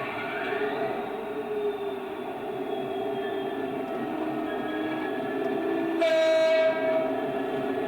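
A model railway locomotive pulls a rake of wagons with a continuous rumbling, whirring run, and a bright train horn sounds near the end, loud and close with no talking.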